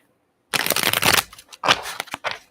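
Tarot cards being shuffled close up, two quick riffling bursts separated by a short pause, loud and without talk.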